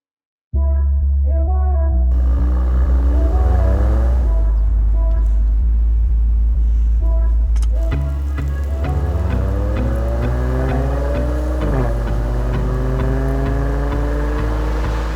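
A Mercedes-AMG C43 sedan's M276 3-litre bi-turbo V6 starts and revs repeatedly, loud and close, its pitch climbing and falling in several sweeps over a steady idle rumble.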